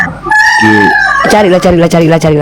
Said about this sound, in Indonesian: Suara ayam kau bilang burung.